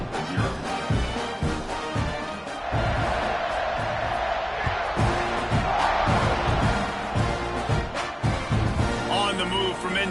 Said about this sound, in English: it just feels like they're really feeding off of this home crowd and their energy